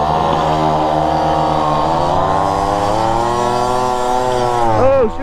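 Small Tomos mopeds race flat out, a buzzy two-stroke whine holding high and close, then rising and bending in pitch as one machine pulls alongside near the end.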